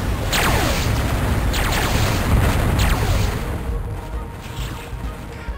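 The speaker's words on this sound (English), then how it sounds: "Hot fusion cannon action." Fusion cannon fire in the Descent video game: three heavy booming blasts land about a second apart, each with a falling whoosh, over a dense, loud rumbling game background that fades slightly toward the end.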